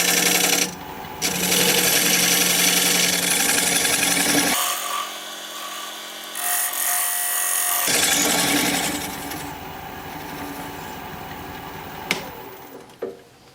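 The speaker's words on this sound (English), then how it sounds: "Now I'm going to switch to my Dovetail tool, recess tool. Put a dovetail right over here." A dovetail recess tool cuts into a spinning walnut crotch blank on a wood lathe, giving a loud, sustained scraping whir that drops away mid-way, then resumes and tapers off with a few sharp knocks at the end.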